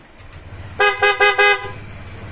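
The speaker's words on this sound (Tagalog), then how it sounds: "PIAA na busina. Pakibusina na yan" Three short, loud honks from a PIAA horn on a Honda PCX160 motorcycle in quick succession, close by, with engine idle rumbling underneath.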